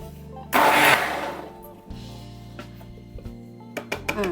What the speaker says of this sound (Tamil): இப்போ நான் கிரைண்ட் பண்ணேன்.